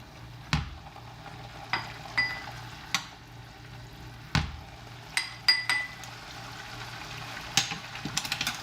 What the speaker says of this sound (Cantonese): 用個筷子攪勻佢